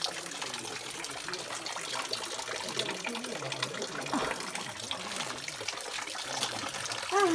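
Water flowing at Bagdwar, the source of the Bagmati river in Shivapuri National Park, a steady wash of running water heard throughout, with faint voices in the background.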